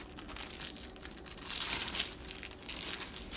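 Plastic film crinkling and crumpling as an individually wrapped apple empanada is unwrapped for an air fryer recipe, a steady close rustle with louder bursts partway through and toward the end, no talk.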